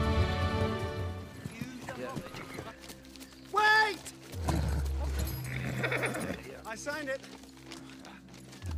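Pony hooves clip-clop on a journey in The Hobbit: An Unexpected Journey, amid a film soundtrack with a horse whinny, music and people talking over the steady hoofbeats.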